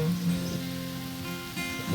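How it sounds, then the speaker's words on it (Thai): Rain patters steadily on a surface, a soft continuous hiss of drops with a faint hum in the background. "ฝนตกแล้วนะคะ ต้องหนีฝนก่อนละค่ะ"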